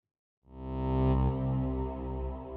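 The first preset of the Inlet Audio Novachord virtual instrument, a vintage-style synth, swells into a sustained rich chord after a moment of silence and holds steadily, warm and harmonically dense, with no talking.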